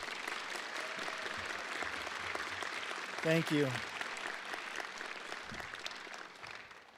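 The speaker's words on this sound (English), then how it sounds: "Would you please give them a round of applause?" An audience applauds school staff at the Central High School graduation ceremony, a steady moderate wash of clapping that carries on while a voice briefly speaks over it.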